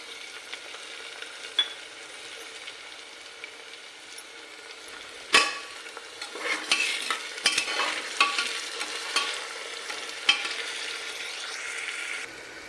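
Onions browning in a pan with green chillies and tomato for moong khichdi, a steady close sizzle broken by sharp spoon scrapes and stirring clatter that grow busier in the second half.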